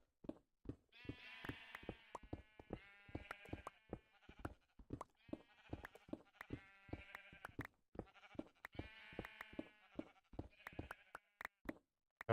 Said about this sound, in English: I hope people like the sounds of sheep going bah.